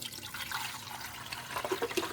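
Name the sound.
vinegar being poured into a Keurig K-Elite water reservoir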